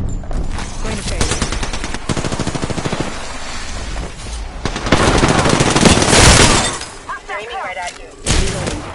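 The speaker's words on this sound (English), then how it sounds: "Listen up, I'm getting shot at." Rapid automatic gunfire in an Apex Legends match rattles in dense bursts with sharp repeated cracks, swelling louder mid-way and returning in a final volley, mixed with game effects and voice chatter.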